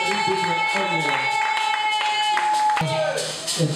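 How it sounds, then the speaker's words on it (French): A church congregation claps along during worship, rhythmic hand claps over sustained music with a held tone and voices, louder and busier toward the end. "est-ce que tu peux acclamer très fort pour l'Éternel?"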